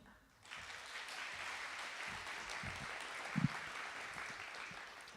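An audience at a credit union's Idea Leap grant competition night gives steady, moderately soft applause that keeps going throughout, with a couple of louder claps near the middle.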